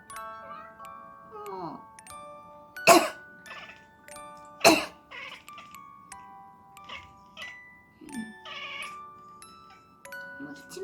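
Indoor pet cat chattering and meowing back each time a person coughs, with sharp coughs answered by short squeaky cat vocalizations at close range, and someone speaking softly in between.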